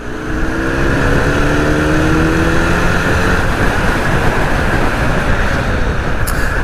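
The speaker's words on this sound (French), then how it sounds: "le son du bicylindre en ligne est très sympa" A Benelli Leoncino 500 Trail's inline twin-cylinder motorcycle engine pulls hard under acceleration, its steady, buzzing drone rising in pitch and loud throughout.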